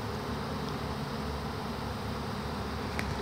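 A honeybee swarm drones around a skep during a swarm capture beneath a hazel tree, a dense, continuous, close hum with one bee briefly passing louder near the end.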